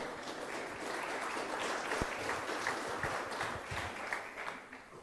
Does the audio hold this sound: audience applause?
yes